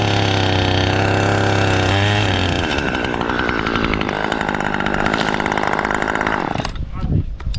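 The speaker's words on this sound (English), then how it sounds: "In his hands is a roaring chainsaw, cutting large sections of the tree trunk and slowly lowering them with a pulley." A roaring chainsaw cuts large sections of a tree trunk high up a tall tree in a canyon, running loud and buzzing steadily with the pitch shifting under load, then dropping off at the end.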